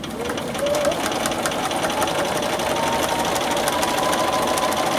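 A sewing machine runs steadily while stitching a 3/8 inch seam on a flat-bottomed tote bag, a rapid even mechanical whir with fine rhythmic needle ticks, close and continuous for the whole stretch.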